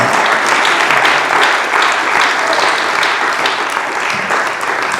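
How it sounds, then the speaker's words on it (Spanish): A church congregation claps loudly and continuously, a thick wash of hands that stays strong and steady throughout, close and full with no voice on top. "Fuerte el aplauso a la bendita gloria de Dios"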